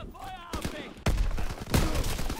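Gunfire from the Call of Duty WWII video game, a few sharp loud bursts of shots cutting through game sounds and a talking player.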